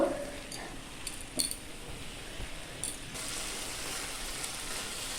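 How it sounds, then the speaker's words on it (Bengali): Cubes of paneer stirred into a fried spice mixture in a pan for chili paneer: a few utensil clinks early on, then a steady, soft frying hiss that carries on to the end. "পনিরগুলো দিয়ে ভালো করে নাড়াচাড়া করে নেব।"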